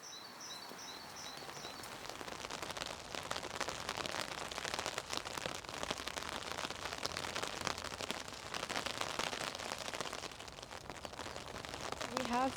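Steady rain falls in a continuous, even hiss of drops on surfaces, moderately quiet and unbroken, with faint bird calls at the start.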